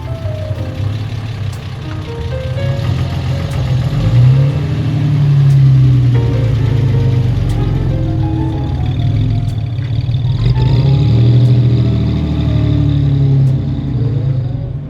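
A 1956 Lancia Aurelia B20, fifth series, drives along with a steady low engine drone from inside the car, its pitch rising and falling as it accelerates and eases off, loud and continuous with no talking.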